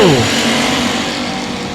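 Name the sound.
race cars racing at I-37 Speedway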